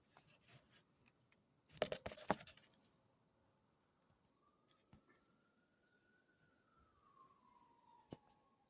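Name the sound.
siren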